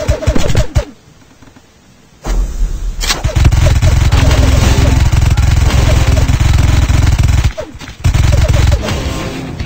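Heavy video game gunfire plays as sustained loud bursts of rapid automatic shots with brief pauses, alongside in-game voice lines.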